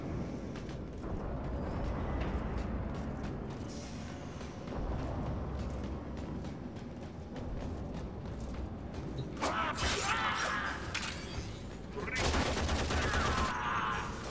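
Rapid automatic assault rifle fire in the video game Warframe, dense fast bursts with mechanical clatter and explosive impacts, a voice talking at times over the gameplay.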